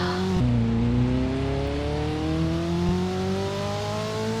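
A car engine in Dealership Simulator holds a loud, sustained rev with steady harmonic drone, pitch climbing slowly after a brief drop, close and alone.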